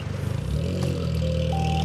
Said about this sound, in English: it sounds like he could do with a new exhaust as well